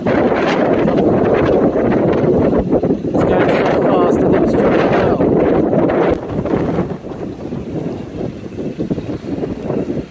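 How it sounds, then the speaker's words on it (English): Strong wind gusts batter the microphone in a loud, continuous roar, buffeting hard for several seconds before easing slightly, with a voice faintly speaking beneath it. "Seems to be getting windier and windier."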